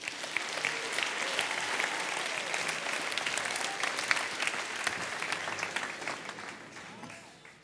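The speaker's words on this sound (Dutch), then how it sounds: "mag ik een hartelijk applaus voor Vincent Maurik" A large audience at a Dutch science lecture gives a warm round of applause, loud and continuous with crisp claps for about seven seconds before fading out.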